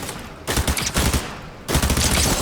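Bursts of rapid gunfire from a Fortnite firefight, two loud sustained volleys separated by a brief lull, dense and close with no talking over them.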